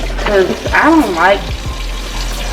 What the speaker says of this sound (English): I like my water to run and run the stuff off